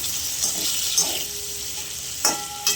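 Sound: paneer fried rice frying in a pan with pepper and salt

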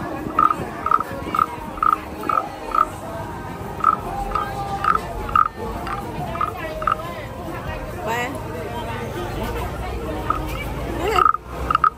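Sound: wooden frog toy croaking at a street market

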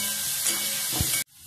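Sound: garlic and green chillies frying in oil

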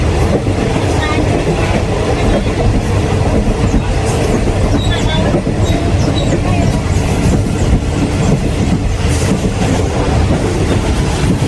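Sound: train running on tracks

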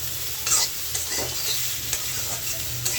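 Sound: cauliflower and potatoes frying and being stirred

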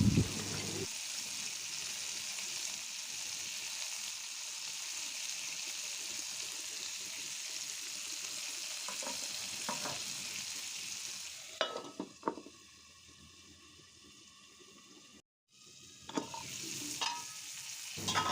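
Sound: stirring dried fish with tomato and salt in pan

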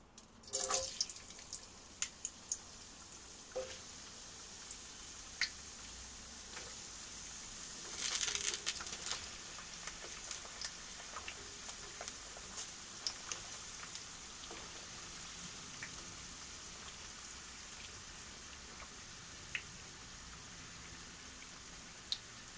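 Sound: potatoes frying in hot oil

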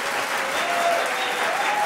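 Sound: audience applause

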